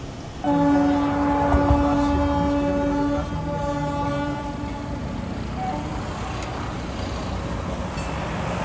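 A passing train sounds a long, loud horn with steady harmonic tones for about three seconds, then rumbles on under a continuous low roar of wheels and carriages on the line near Puri.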